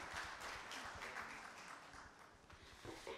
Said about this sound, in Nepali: यहाँहरूको जोरदार तालीको म अपेक्षा पनि गर्न चाहन्छु